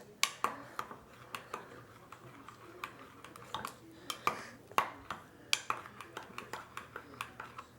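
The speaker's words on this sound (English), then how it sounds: "we want to just mix this together right in the measuring cup" Ingredients are stirred together in a measuring cup, with a utensil clinking and tapping against the cup in quick, irregular strikes. The sound is faint and close.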